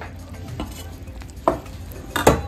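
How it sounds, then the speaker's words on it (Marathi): Flour dough for puran poli is mixed by hand with plain water and two spoons of warm oil, making soft, close, wet working sounds with a couple of brief knocks and no talk. "साध्या पाण्याने आता आपण हे पीठ मळून घेऊ"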